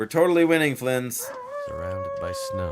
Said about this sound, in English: we hear the wolf howling